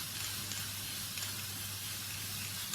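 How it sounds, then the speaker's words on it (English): A can of rose gold lustre spray hisses steadily onto a wedding cake, one continuous soft close spray with no voices. "just lustre it up with this rose gold spray"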